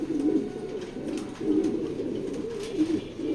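A large female racing pigeon coos up close in a loft, giving three deep, throaty coo phrases spaced about a second apart.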